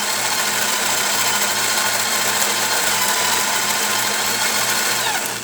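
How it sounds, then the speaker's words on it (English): A Zacconi coffee grinder runs steadily and loudly, grinding coffee with a continuous whirring motor drone and a gritty, rhythmic grinding texture throughout. "I increase the grind size of the grinder."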